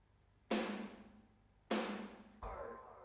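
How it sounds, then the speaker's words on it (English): Three snare drum hits in a roomy space, each a sharp crack followed by a long reverberant decay, with the last hit coming sooner. "I ended up using a snare room mic sample, which sounds like this."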